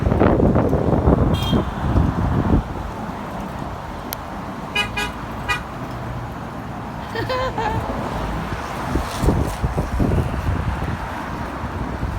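Steady low wind rumble buffets the microphone throughout in Denver's Civic Center Park, with a few distant car horn toots and brief talk mixed in.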